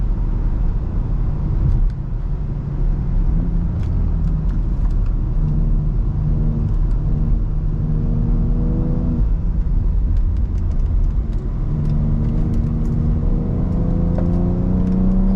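Lifted and stretched BMW M3 heard from inside while driving, its engine droning and rising in pitch as it revs and climbs, then dropping back and revving up again, loud and steady under road rumble.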